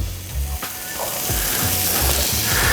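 Guanciale renders in a hot pan with a steady, close sizzle and crackle, punctuated by occasional stirring clatter and a few low thumps.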